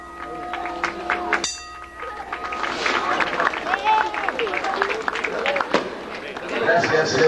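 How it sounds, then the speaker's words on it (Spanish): A crowd applauds a carrying team at a religious procession for Saint Jude Thaddeus in Callao, Peru, the clapping mixed with cheering, chatter and an amplified voice over a continuous outdoor din. "el aplauso también."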